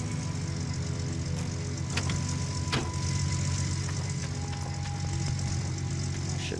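A truck engine idles steadily while parked at a stop in the Gold Rush video game, a low continuous rumble with a faint mechanical knock running evenly through the whole stretch and no talk over it.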